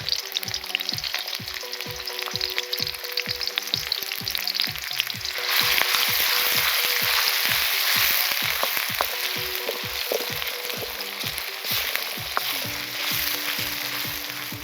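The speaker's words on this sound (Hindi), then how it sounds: "और हरी मिर्च को हमने थोड़ा सा बारीक कूट लिया था, और ये वाली सुर्ख मिर्च, और साथ में अदरक को बारीक चॉप किया हुआ। इसका तड़का तैयार करेंगे।" Green chili, red chili and chopped ginger fry in hot oil for a tadka with a constant loud sizzle that grows harsher and stronger partway through, and a low rhythmic thumping runs underneath.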